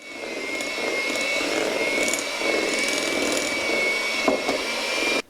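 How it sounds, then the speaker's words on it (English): An electric mixer creams soft butter for Battenberg cake batter, its motor whirring loud and close in an even drone for about five seconds before cutting off abruptly. "I'm just going to do it quickly with my mixer"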